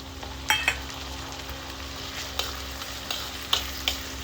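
Tomato and green chilli added to a pan of ginger paste and onion, frying with a steady moderate sizzle and several sharp clicks of a spoon against the pan, no voices.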